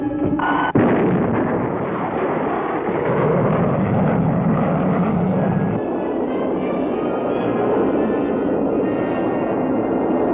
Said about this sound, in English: They'll be launching the dart any time now.